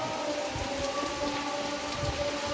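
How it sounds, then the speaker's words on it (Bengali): Heavy rain pours steadily over a village with a pond, a dense continuous hiss with patter throughout, close and moderately loud, with no voices. "ব্যাপক বৃষ্টি হচ্ছে সকাল থেকে"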